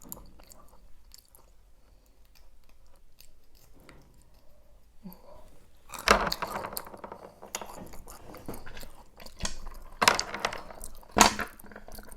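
Quiet room tone with faint handling noises, then a cluster of sharp cracks and crunching snaps as a large macadamia nut shell is broken open, ending in a few louder crisp pops.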